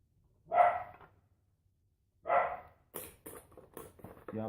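A dog barks in two separate bursts, moderately loud and close by, then a person starts talking right after in a garage or yard during small-engine repair work.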